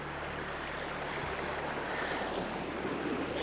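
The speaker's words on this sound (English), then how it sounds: "So this is the Peel River." Peel River near Nundle, Australia, flowing at night: a steady, broad rushing wash of water close by, with a low hum underneath and some wind noise on the microphone.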